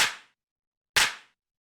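A roomy clap layer for a house music track sounds twice, about a second apart, each a sharp bright snap trailing into a brief roomy decay, with silence between hits.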